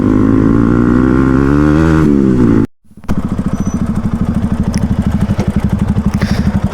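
A Royal Enfield Bullet motorcycle rides along, its engine giving a steady, close, loud thumping idle-like pulse after a brief dropout, preceded by a lower droning rumble.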